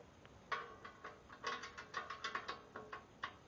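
Fasteners being tightened on a 1 HP 4x6 horizontal/vertical metal cutting band saw during assembly, heard as a quick run of faint, close ratcheting clicks in an even rhythm.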